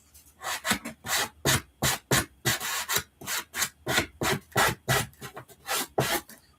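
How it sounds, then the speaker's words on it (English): Repeated rasping strokes of a sanding block rubbing back and forth on a surface, steady rhythm, close and fairly loud, with no talking. "I just grabbed an actual sanding block."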